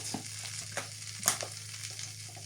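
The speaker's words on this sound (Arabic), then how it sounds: "بننزل بالدقيق والثوم على السمنه" Flour and garlic frying in ghee in a pan for a quail dish, a steady soft sizzle with a few light scrapes and clinks from stirring, close and continuous with no talking.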